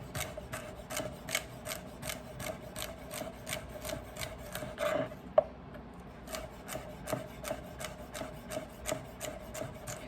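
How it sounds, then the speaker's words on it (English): A knife slices celery thinly on a cutting board, producing a steady rhythm of crisp, close chopping taps that continue through the whole stretch, with one brief louder knock near the middle. "thin chop, slices here of the celery"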